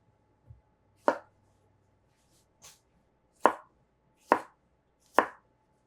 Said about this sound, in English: I like to cut the cucumbers about the same size as the tomatoes